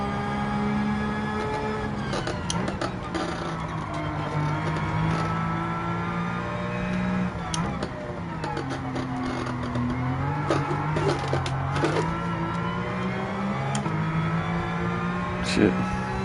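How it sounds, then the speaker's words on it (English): Race car transmission in the Gran Turismo 7 video game whining with a high sustained whistle over the engine drone, pitch rising and falling as the car accelerates and shifts, with a person talking over it at times. "It's that transmission whistle."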